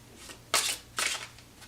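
Tarot cards shuffled by hand before a draw, two bright crisp riffling bursts close by with softer card rustles between, no talking.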